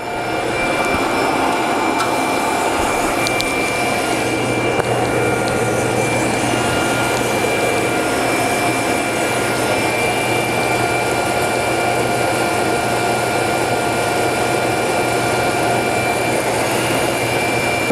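FireJet 4C printer running a print job with the head lowered, a loud, steady mechanical hum and whir holding constant throughout with a faint tonal whine, no speech.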